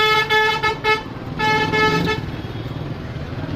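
Car horns honking in a jammed street near a livestock market, several overlapping toots in quick pulses, loud and near, over a steady murmur of traffic and crowd.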